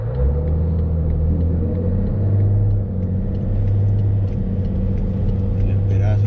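Cars roll past in Brisbane city near the Story Bridge, a continuous loud road rumble with engine drone close by, heard from inside a moving vehicle.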